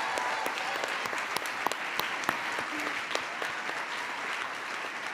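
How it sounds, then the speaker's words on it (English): An audience at a New York Comic Con panel claps steadily, a dense, continuous wash of applause from a large crowd with a few sharper claps standing out. "I think we should all clap for those four."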